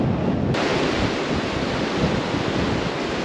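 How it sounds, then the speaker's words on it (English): A flooded, normally dry river overflows across Frank Sinatra Drive in Rancho Mirage during a tropical storm, making a loud, steady broadband roar of rushing water mixed with wind buffeting the microphone. "It is shut down as what is a typically dry river is overflowing."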